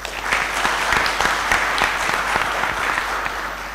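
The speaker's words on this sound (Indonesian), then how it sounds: "Kurang satu, Pak, karena tepuk tangannya kurang keras" Steady audience applause fills a hall at a capacity-building event for PPPK government contract staff in East Java, a dense wash of many hands clapping at even loudness throughout with no voices.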